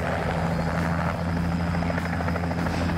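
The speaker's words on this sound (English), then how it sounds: "All right, let's get to the chopper." A helicopter at a fly-in airshow in Oconto County, its rotor throbbing loud and steady with a continuous engine drone, close by.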